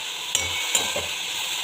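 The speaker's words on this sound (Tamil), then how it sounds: "அடுத்தது முட்டைக்கோசு போட்டு வதக்கிட்டு இருக்கேன்" Shredded cabbage stirred and sautéed in a pan for a quick chutney, a steady soft sizzle with two sharp scrapes or knocks of a utensil against the pan, no talking.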